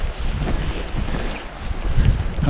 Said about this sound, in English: It's raining and windy and